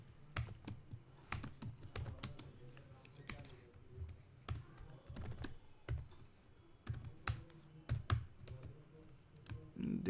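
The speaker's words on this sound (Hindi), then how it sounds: "सॉरी मेरा टाइपिंग उतना फास्ट नहीं है तो थोड़ा सा टाइम लग रहा है।" Irregular bursts of keystrokes on a computer keyboard during Python programming, sharp clicks clustered in quick runs with short pauses, close and fairly quiet, no talking.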